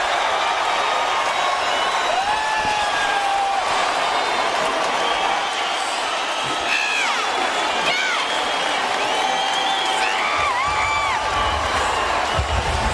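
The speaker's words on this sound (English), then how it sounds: "Listen to the reaction of this crowd." A UFC arena crowd erupts after Cung Le knocks down Tony Fryklund, a loud, sustained roar with whistles and whoops throughout and a voice talking over it.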